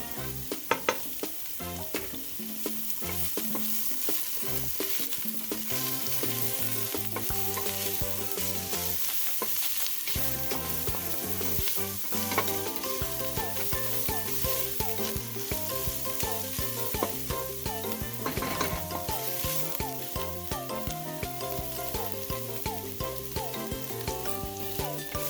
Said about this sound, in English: saute for just a few seconds. Then add your garlic.